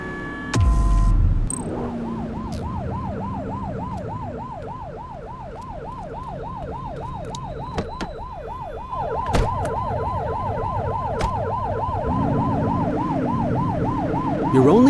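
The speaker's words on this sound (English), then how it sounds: "You're only meant to use the siren in emergencies." A police car siren in the video game The Precinct wails, cycling rapidly and continuously up and down, close and loud, over a low engine rumble after a brief thump at the start.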